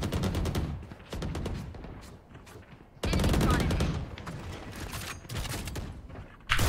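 Rapid gunfire from the shooter game Valorant comes in dense bursts of sharp, loud shots. The shots run in two main flurries with brief pauses between them, and there is no talking.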